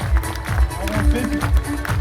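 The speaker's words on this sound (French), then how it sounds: "Merci de les applaudir encore plus fort." Festival crowd applauding dancers and artists at an outdoor event, with rhythmic, steady collective clapping and low thumps recurring at an even beat, fairly loud and close, with faint voices mixed in.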